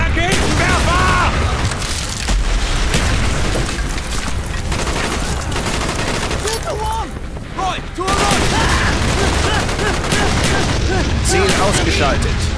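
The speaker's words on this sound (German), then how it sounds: "Werfe Granate!" Grenade blast and ongoing battle in Call of Duty Black Ops: dense booms and rapid gunfire run almost continuously, loud and close, with clipped voices calling out over the combat.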